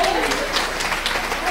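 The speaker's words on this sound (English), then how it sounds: "A round of applause." Audience applause at a support event, a dense wash of clapping with a voice speaking over it, close and loud.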